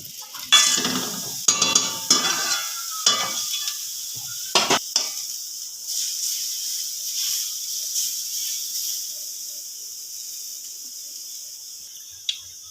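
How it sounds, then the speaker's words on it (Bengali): Shredded cabbage fries in a kadai, with a few sharp scraping stirs at the start, then a steady, gentle sizzle that continues alone. "বাঁধাকপি কুচোনোগুলো এবার ভেজে নেব"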